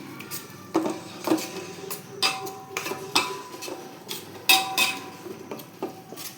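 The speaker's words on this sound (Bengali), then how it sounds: "এবার এটাকে আমি সুন্দর করে মাখিয়ে নেব।" Hog plum pickle is mixed by hand with mustard oil in a bowl, giving a series of sharp, uneven clinks and knocks that repeat in a loose rhythm, close and clear.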